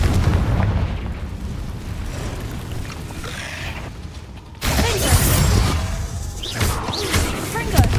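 Confringo blasting spell explosions in a cave in Hogwarts Legacy: a sudden loud blast erupts after a quieter stretch, followed by further booming bursts and crackling game effects, with a voice heard beneath the mix.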